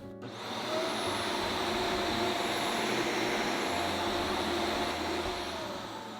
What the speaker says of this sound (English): a small clip here of my first time using this new vacuum last week